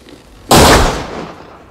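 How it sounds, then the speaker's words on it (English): A single close, loud gunshot fired inside a van during a crime film scene, a sharp blast that cuts in suddenly and rings out with a decaying tail, no voices over it. "That guy walking didn't notice a gunshot in the van?"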